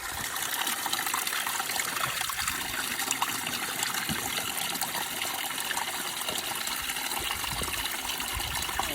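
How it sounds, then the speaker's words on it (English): A mountain stream in the English Lake District rushes steadily and loudly as a water bottle is filled from it, a close, continuous gushing and trickling with no other sounds. "That's my water filled up"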